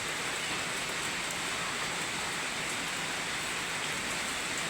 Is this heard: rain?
yes